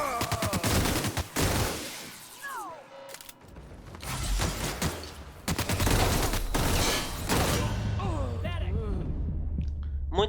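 Gunfire in The Outer Worlds, repeated bursts of shots with mechanical clanks and creaks between them, mixed with game voices and music.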